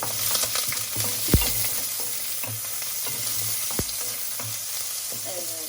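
Food sizzles steadily in a hot pan for Filipino tinola, a continuous close frying hiss with a couple of brief clinks or taps of a utensil against the pan, and no talking.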